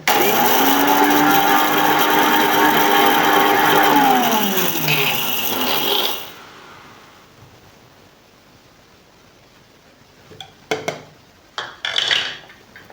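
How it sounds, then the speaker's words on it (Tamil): Mixer grinder in a small jar grinding leaves into powder: a loud, high motor whine runs for about six seconds and winds down, followed by quiet and a few brief knocks and rattles of the jar. "நான் இதை வந்து அரைச்சி எடுக்க போகிறேன்"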